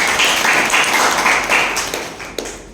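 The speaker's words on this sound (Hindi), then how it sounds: "आप सबके लिए जोरदार तालियों से स्वागत करते हैं" A crowd of party workers at a political meeting in Mirzapur claps in a dense burst of applause that gradually fades, with no talking.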